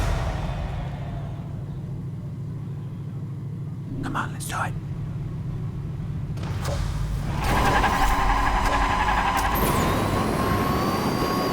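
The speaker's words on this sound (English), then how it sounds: "I want to listen to the engine sound for this thing" The Velociraptor car's engine in the video game Hot Wheels Unleashed drones and revs, growing louder and higher partway through, with a brief spoken line and whispery voices over it.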